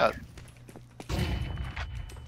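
Gunfire bursts in a competitive shooting video game match, a few sharp shots then a denser volley of impacts, loud and close, mixed in with players talking over voice chat.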